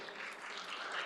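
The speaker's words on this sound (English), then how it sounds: "another big round of applause" Applause for a Spartan cross country team at a school district governing board meeting, a dense, steady wash of many hands clapping in a room, continuous throughout.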